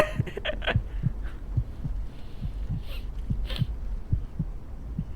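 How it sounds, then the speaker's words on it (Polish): A heartbeat sound effect from the video game The Escape Together: steady, low, thudding double beats repeat about every half second over a faint hum, with no talking. "Mam bicie serca."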